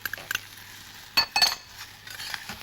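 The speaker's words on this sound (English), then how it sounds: "let it sizzle gently for a few minutes" Shallots, diced mushrooms and leftover bits of fish cooking in a pan with gentle sizzling, broken by clinks and scrapes of a utensil against the pan.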